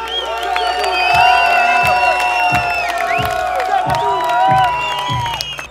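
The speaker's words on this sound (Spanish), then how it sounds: "Un aplauso para los Panteras Negras." At a celebration marking 30 years of the Panteras Negras, a crowd cheers with high whoops and shouts over rhythmic, evenly spaced claps or drumbeats, lively and close.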